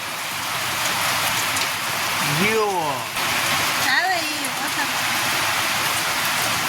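Heavy rain pours steadily over an open farm field, a loud, continuous hiss of drops all the way through, with a voice briefly speaking partway in.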